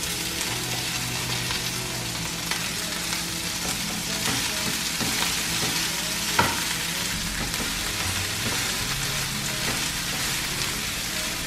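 Chopped kale (couve) sautés in a pan with a dense, even sizzle like light rain, broken by occasional stirring clicks, and no voices.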